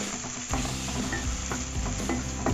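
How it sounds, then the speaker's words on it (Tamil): Chopped tomato sautéing with onions in a pan for sambar rice: a continuous close sizzle of frying, with repeated scraping stirs of a spoon through the mixture and no talking. "அந்த தக்காளியும் கூடயே போட்டு வதக்கலாம்"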